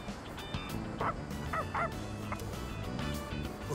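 A dog in Persona 3 Reload gives a few short barks and yips mixed with whimpering whines, spaced irregularly over a light background, with no talking.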